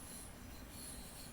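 In the Train Simulator 2022 video game, train wheels squeal on the Chatham Main Line, a faint high-pitched metallic whine over a low rumble, with no speech.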